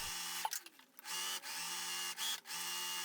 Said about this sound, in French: je viens coudre les 2 couches ensemble dans la valeur couture